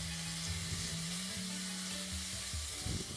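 Chopped onions frying over high flame in a pan with salt, a steady close sizzle with soft scraping stirs throughout, no voices.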